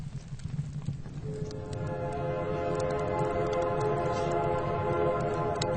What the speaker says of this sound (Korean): 분명히 기적소리다